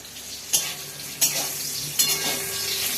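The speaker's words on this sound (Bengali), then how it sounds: "এই দেখো বেগুন ভাজা হচ্ছে।" Eggplant frying in a pan gives a continuous close sizzle, broken by three sharp stirring scrapes spaced through the sound.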